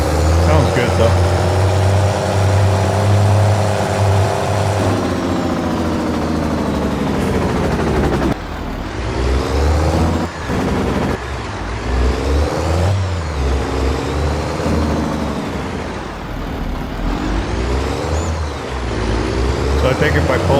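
Pickup truck engine with a dual stack exhaust in Farming Simulator 22, a steady loud droning rumble that shifts in pitch as it revs, with someone talking over it.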